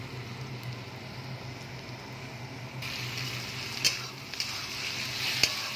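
Onion and chopped tomato frying in a pan for a Bengali duck-egg curry, a soft steady sizzle that brightens partway through, with a few sharp utensil clinks near the end.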